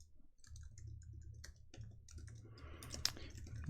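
Someone types on an American-layout computer keyboard during a live coding session, a quiet irregular patter of keystrokes with a sharper click near the end.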